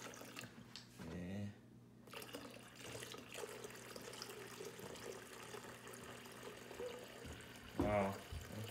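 Water pouring into the reservoir of an indoor greenhouse, about two gallons, making a faint, continuous trickle and splash under quiet talk, with a brief louder burst near the end.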